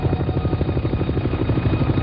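Navy helicopter in flight, steady rapid rotor chop with a deep engine drone, continuous and fairly loud, no talk.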